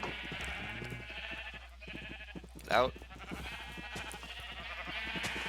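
Sheep in the Minecraft video game bleat a few times, close and clear, mixed with a player's speech and other game sounds.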